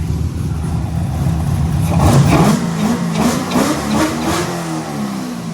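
An old competition car engine revs up several times in quick bursts, rising and falling in pitch, close and fairly loud with no talking.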